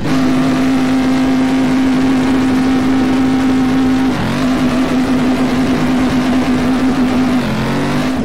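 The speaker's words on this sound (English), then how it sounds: "I love how this car sounds. It's very scary." Modded Camaro GT engine roaring in a racing video game, a loud sustained high-rev drone with two brief drops in pitch at gear shifts before climbing again.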